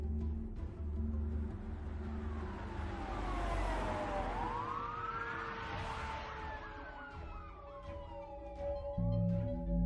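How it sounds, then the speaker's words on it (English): Wailing police sirens swell and sweep up and down in pitch, growing louder as they draw near through woods over a constant rumble of engine noise. "he heard sirens approaching through the woods"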